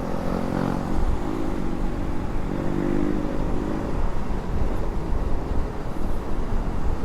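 A motorcycle engine revved hard nearby on a road ride in Bandung, a loud continuous throaty roar under steady wind and traffic noise.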